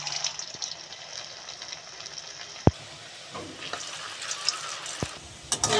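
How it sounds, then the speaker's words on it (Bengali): Small baby sweets deep frying in white oil in a pan, a steady soft bubbling sizzle with a few sharp clinks of a utensil against the pan and no talking. "বাকিগুলো আমি ভেজে নেব।"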